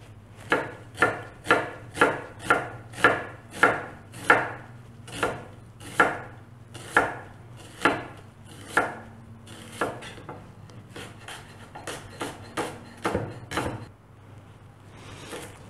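Knife chopping onion and carrots on a cutting board, a steady run of about twenty crisp, close thuds at a regular pace that loosens toward the end, with no talking.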